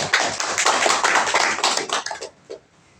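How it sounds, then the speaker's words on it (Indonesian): Applause for Gus Ali fills a room during a regional mosque council visit, a dense burst of many hands clapping close by that thins out and fades to a few last claps near the end. "Tepuk tangan buat Gus Ali."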